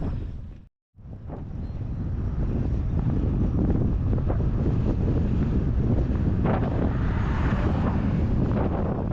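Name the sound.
strong wind blowing on a cyclist's microphone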